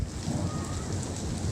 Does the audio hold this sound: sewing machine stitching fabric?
no